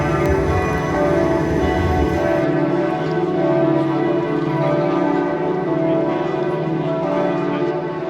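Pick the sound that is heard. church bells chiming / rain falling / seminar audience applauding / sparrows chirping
church bells chiming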